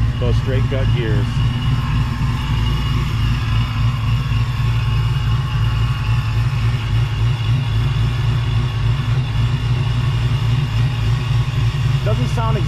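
The engine of a Vortech-supercharged 1989 Ford Mustang GT with a Trick Flow stage one cam rumbles loud and close in a steady low throb. The whine of straight-cut supercharger gears sits on top, and a voice talks briefly over it.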